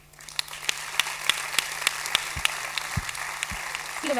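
A screening audience applauds volunteers in a hall, with steady, dense clapping rising quickly and carrying through, crisp individual claps standing out near the front.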